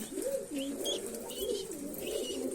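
A young turtle dove gives soft, repeated cooing calls close by. Faint chirps from other birds sound in the background.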